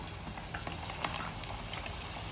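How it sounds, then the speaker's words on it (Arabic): Onions fry in hot oil in a pan, giving a soft, continuous crackling sizzle with small pops scattered through it, fairly quiet and with no talking. "ودلوقتي هنحط بقى البصل في الزيت اهو"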